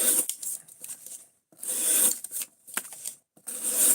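Knife blade being sharpened with repeated rasping strokes, about four bursts of scraping separated by short pauses, close and clear with no talking.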